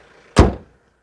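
A single solid thud of a diesel Hyundai Avante AD's hood being shut, close and loud, then quiet.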